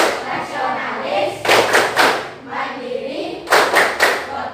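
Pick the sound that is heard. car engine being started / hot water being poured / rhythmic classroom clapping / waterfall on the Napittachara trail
rhythmic classroom clapping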